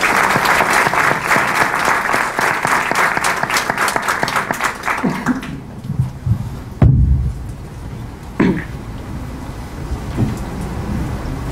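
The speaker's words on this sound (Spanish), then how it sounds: "Lo recibimos con un fuerte aplauso" Strong applause from a university audience welcoming India's ambassador fills the first half, then fades into room noise with a few thuds and shuffles near the end.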